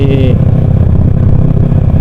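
Loud, steady low rumble of a motorcycle engine breathing through a LeoVince slip-on exhaust, close up and continuous, with a brief higher tonal whine over the first fraction of a second.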